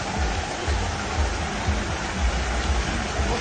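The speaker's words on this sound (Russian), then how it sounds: "Там вообще водопад." Storm water in Sochi after heavy rain rushes like a waterfall, a loud, continuous broadband roar with a low rumbling churn, steady from start to finish with no voices.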